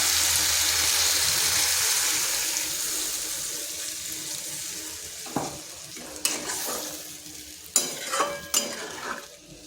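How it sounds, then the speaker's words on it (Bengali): Water poured into a frying potato and pointed gourd curry: a loud rushing hiss fades into bubbling and simmering, followed by several sharp clinks and stirring scrapes against the pan. "এটা কষানো হয়ে গেছে, এরপর দিয়ে দিচ্ছি জল"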